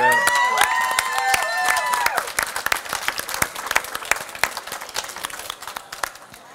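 At a cooking competition, scattered clapping builds into steady applause from an audience, following a brief musical sting at the start.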